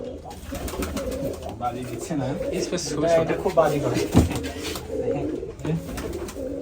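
Rajshahi Giribaz pigeons coo in low, throaty burbles close by, repeating steadily while someone talks over them.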